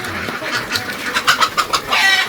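Chickens cluck and squawk in a short burst of repeated calls on a duck and layer farm after three days of rain, with no voices present.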